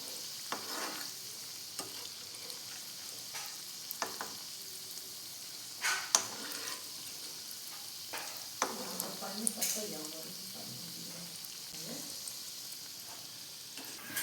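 Chicken bread rolls frying in a pan on low flame, a steady sizzle broken by scattered clinks and scrapes as they are turned over.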